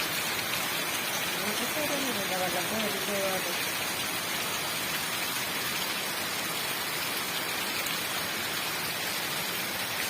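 Steady rain falls in Kannur, a dense, even hiss of drops that fills the whole stretch without letting up, with a voice speaking briefly near the start.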